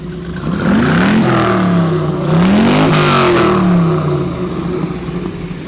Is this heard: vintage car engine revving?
yes